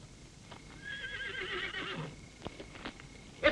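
Horses whinny in a shrill, wavering neigh, fairly faint and somewhat distant, with a few dull thumps and hoof knocks around it.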